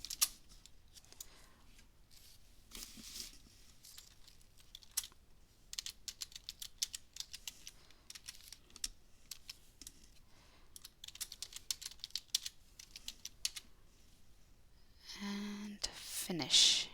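A password is typed on a computer keyboard as a steady run of faint, close clicking keystrokes over about fifteen seconds, followed by a brief louder sound at the end.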